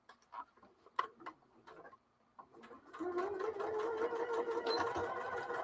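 After a few soft clicks and taps, a sewing machine stitches fabric backed with black interfacing, settling into a faint, even run of stitching for the last couple of seconds.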